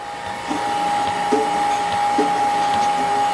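A dairy milking machine's vacuum pump, housed outside, runs with a steady droning hum and a constant tonal whine, joined by a few faint clicks while two cows are milked.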